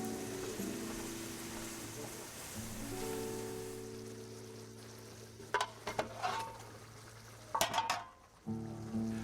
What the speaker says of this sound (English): Then the red wine, and allow this to bubble gently for several minutes.